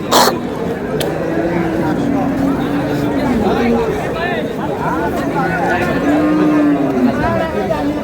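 Cattle low and moo repeatedly at a busy Bangladeshi cattle market with cows and calves, the calls rising and falling over a steady murmur of crowd chatter and voices.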